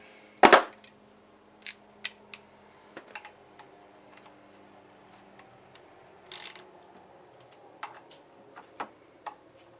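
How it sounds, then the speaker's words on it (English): Ratchet snugging bolts on a Honda J-series V6 engine during timing belt work, a sharp metallic crack followed by scattered quick clicks and taps, close and sparse over a quiet background. "Put the two bolts in. And snug those down."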